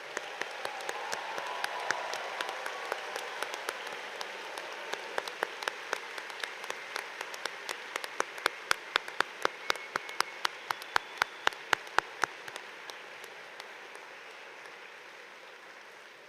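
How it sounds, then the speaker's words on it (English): An audience at a university engineering commencement ceremony applauds the master's graduates, a steady wash of clapping with sharper individual claps standing out, fading toward the end. "Let's give a round of applause to all of our master's graduates."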